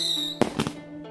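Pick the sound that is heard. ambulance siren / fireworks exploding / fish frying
fireworks exploding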